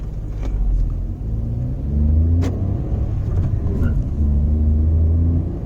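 A Ford Freestyle with a 1.2-litre three-cylinder Dragon petrol engine pulls away on a main road, its low engine note rising through the gears in a steady, close rumble with no talk over it.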